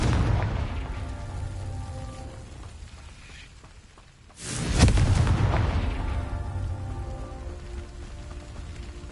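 A Confringo explosive spell in Hogwarts Legacy erupts midway as a sudden, loud, crackling blast over a steady rain-like hiss, followed by a lingering rumble.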